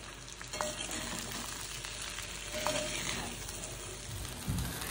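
Stuffed brinjal fries in oil in a pan over low heat, giving a continuous soft sizzle with occasional light scraping as the pieces are gently turned, fairly quiet and without talk.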